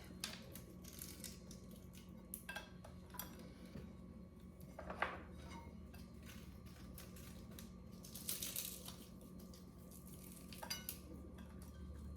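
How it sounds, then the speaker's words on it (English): Cooked bacon crumbled by hand into a measuring cup for a broccoli salad, a faint series of irregular small crackles, crunches and light taps spread across the whole stretch, quiet and close, with no talking. "I'm just going to crumble it myself fill up my little half cup."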